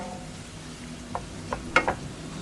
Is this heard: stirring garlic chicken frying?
yes